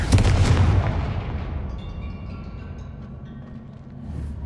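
A Confringo fire blast spell in Hogwarts Legacy lands with a heavy booming explosion, loud and close at the start, then a long rumbling decay with crackling debris, and a faint swell near the end.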